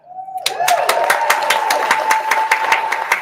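A small audience at a sales talk claps in a brisk, regular rhythm, sharp individual claps repeating evenly over a sustained tone, close and moderately loud.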